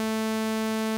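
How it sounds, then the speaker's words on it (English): A buzzy, harmonically rich sawtooth wave tone sounds alone for about a second, steady and fairly quiet, during a live online homework-help session comparing waveforms. "And then here's a sawtooth wave."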